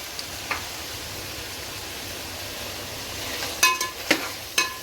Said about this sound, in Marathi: रेड चिली सॉस बस टाका तर शेजवान चटणी